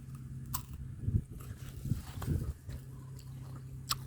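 Guava fruit being bitten and chewed up close, with several crunchy bites around the first two and a half seconds and softer chewing between them, steady low background hum, no talking.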